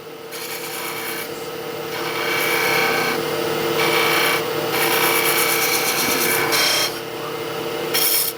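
A skew chisel cutting spinning wood on a lathe, a steady close rasping scrape that rises and falls in loudness across several passes, with brief lighter gaps between cuts.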